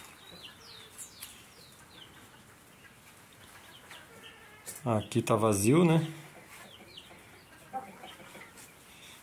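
Brooding hens at a farm flock with Sebright and bantam chickens give soft clucks, then a louder burst of nasal, wavering calls in the middle, while a person talks quietly nearby.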